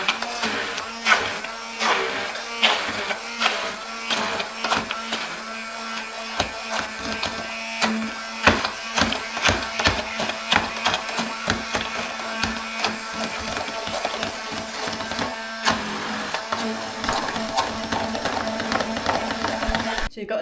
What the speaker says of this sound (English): And I'm now going to blend it.